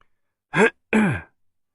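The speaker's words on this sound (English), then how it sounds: "he broke the silence by giving a completely artificial and theatrical cough" Two short, deliberate vocal bursts, a throat-clearing cough split into a quick first hack and a longer second one, close and isolated in silence.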